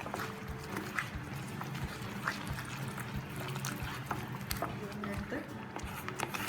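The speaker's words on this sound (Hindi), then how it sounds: "करके जो पानी था उसमें बॉईल किया हुआ वो हम ग्रेवी में डाल देंगे।" Boiled onion-tomato water poured into a pan of paneer butter masala gravy, a steady wet splashing and trickling at close range, partly masked by kitchen noise and a low background hum.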